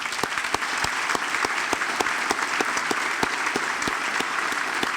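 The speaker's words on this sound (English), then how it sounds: "Please join me in giving them all a round of applause." Steady applause fills a banquet hall at a corporate luncheon ceremony, an even, moderately distant patter of many hands clapping without pause and with no voices on top.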